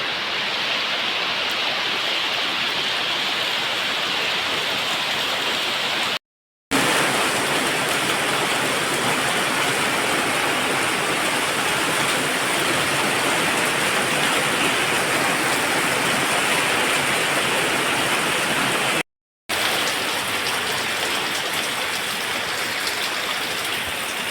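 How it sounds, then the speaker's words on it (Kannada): Steady, dense heavy rain pours continuously with a broad hissing roar, interrupted by two brief silent gaps, and no voices. "ಇವಾಗ ಫುಲ್ ಜೋರು ಮಳೆ ಫುಲ್ಲು ಕತ್ಲಾಗಿದೆ"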